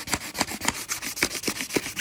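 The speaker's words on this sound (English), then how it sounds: "I am sanding away as much as these rock chips and the lip as possible" Hand sanding a car wheel rim's rock chips and lip with 1500-grit sandpaper, close and rhythmic rasping strokes repeating roughly every quarter second, alone without talk.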